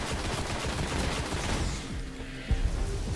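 Gunfire in the video game Destiny, a dense rattling burst of rapid shots that thins out toward the end, ending in a couple of heavier thuds, with no voices.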